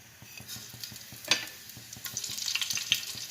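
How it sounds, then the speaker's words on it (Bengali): Green chillies and black cumin crackle in a little hot oil for a fish curry, with quiet pops and spits that grow busier toward the end, over a faint rhythmic low background. "এখন আমি দুটো কাঁচা লঙ্কা দেব আর"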